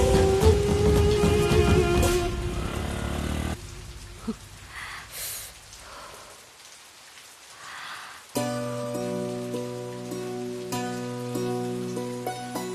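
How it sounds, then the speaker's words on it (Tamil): Heavy rain begins to fall in a scene from a Tamil TV serial, a dense hiss that mixes with music and then thins. Louder tonal music returns afterward. "இந்த நேரத்துல இப்படி மழை பெய்ய ஆரம்பிச்சிடுச்சே"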